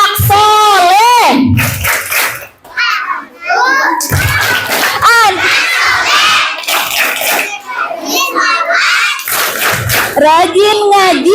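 Primary school children at an Isra' Mi'raj gathering in Indonesia chanting the 'tepuk anak soleh' clap chant, loud group voices shouting in unison with rhythmic hand claps, close and energetic, filling the hall.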